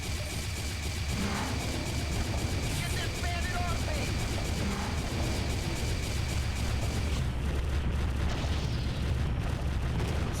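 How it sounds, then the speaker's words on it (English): Powerful torpedoes strike a King cruiser in the 1999 space combat game FreeSpace 2, heard as a dense, steady explosive roar that rumbles continuously for about ten seconds with small crackling bursts inside it. "Somebody's hitting that King cruiser with some powerful torpedoes, and it's not me."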